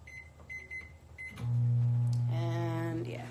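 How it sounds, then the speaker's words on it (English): A microwave oven hums steadily at close range while cooking chopped potatoes, starting after a few quiet clicks and beeps, with a loud low drone and a higher whirring tone joining partway through. "I just stick them in the microwave for like 6 minutes"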